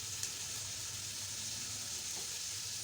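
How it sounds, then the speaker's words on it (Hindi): Whole spices sauté in a pan over low heat for chicken vegetable soup, giving a soft, steady sizzling hiss that runs unbroken and fairly faint throughout, with no talking. "ये भी मैं साथ ही इसको डाल के सौते करूँगी।"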